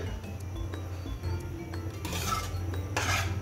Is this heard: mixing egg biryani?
yes